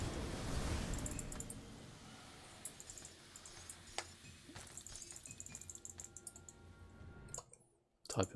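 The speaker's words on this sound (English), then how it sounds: "Typing it wrong." Fast, irregular clicking of a computer keyboard during a Grim Dawn gaming session, quiet and close, with clusters of keystrokes and short pauses.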